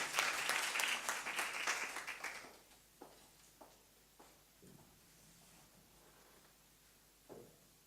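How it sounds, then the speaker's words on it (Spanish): Audience applause welcoming a speaker at a conference, dense clapping for about two and a half seconds that quickly thins to a few scattered, isolated claps in a quiet hall. "Démosle un aplauso de bienvenida."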